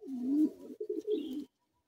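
Breeding pigeons in a loft give a couple of clear, close, rolling coos, then fall silent.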